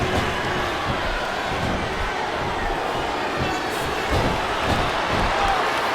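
A capacity arena crowd roars in the WWE SmackDown vs Raw 2007 wrestling game on Xbox 360, during a Chris Benoit versus Triple H match: a steady, dense wash of cheering that stays loud for the whole stretch.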